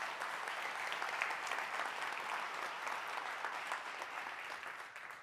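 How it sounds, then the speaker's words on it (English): A church congregation claps steadily for several seconds, a dense, even wash of applause. "Yeah, you can clap again."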